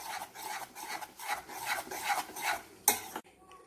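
Ghee cooking down from milk cream is stirred in a pan: rhythmic rasping scrapes of a spoon across the pan bottom over a soft bubbling fry, ending with a sharp knock, close and quiet with no voices.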